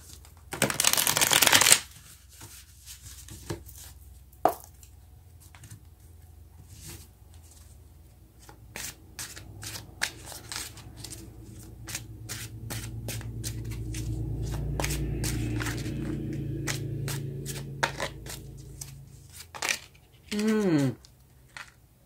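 Tarot cards being shuffled and drawn: a loud riffle shuffle at the start, then scattered card snaps, slides and taps, a longer soft sliding stretch, and another quick riffle near the end.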